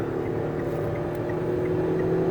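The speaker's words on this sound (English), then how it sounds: "I'm going to give it some gas." The 4-cylinder engine of a 2016 Kia Sorento LX hums steadily under acceleration while driving, a continuous low drone with a faint whine and road noise. The sound stays even and moderately loud, and no one speaks.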